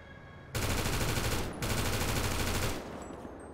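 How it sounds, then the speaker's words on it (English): AK-47 assault rifle firing in a GTA roleplay game: a loud, continuous automatic burst lasting about two seconds, a split-second break, then more sustained fire that cuts off into quiet. "What gun is that? That sounds good. AK-47."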